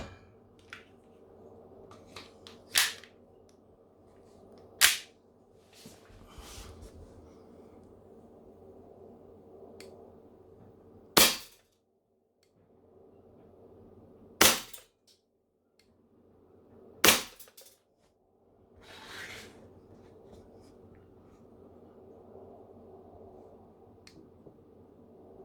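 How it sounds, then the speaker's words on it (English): An airsoft gas pistol loaded with red gas fires sharp, loud cracks, about six distinct shots spaced irregularly over quiet background hiss. "we fired 10 shots into the wild"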